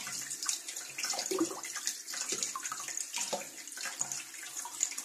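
Water running from a tap into a sink or basin, a quiet close splashing stream with uneven bursts, alone without talk.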